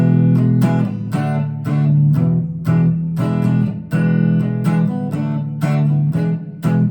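Electric guitar strums a chugging rhythm, with punchy repeated chord hits and short pauses in a swampy groove, loud and close with no voices.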